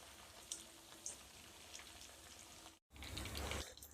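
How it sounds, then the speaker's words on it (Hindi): Sparrows fry in a pan with a quiet, steady sizzle and occasional soft pops, then a brief break before a louder, fuller crackle as they are turned. "ये दोनों तरफ से फ्राई हो गए"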